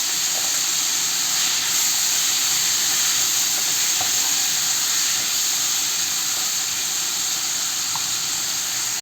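Chopped mixed vegetables with dried fish hitting a hot pan, salt already added: a loud, dense, unbroken hiss of frying with faint scattered crackles, close and steady throughout.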